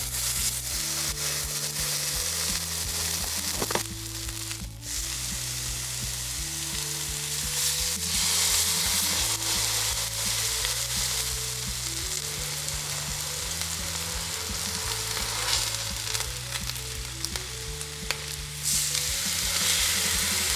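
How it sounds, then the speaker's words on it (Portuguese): Beef pieces fry in olive oil in a pan, a constant close sizzle with occasional stirring clatter, with music playing steadily underneath and no talking. "E agora aqui na frigideira eu vou espirrar um pouco de azeite de oliva. E eu já vou colocar os pedaços de carne aqui também."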